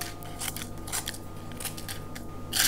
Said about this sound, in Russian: измельчаем ножницами